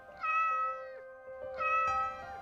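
A cat gives two drawn-out, clear meows in quick succession, close and fairly loud, with a short pause between them and nothing else over them.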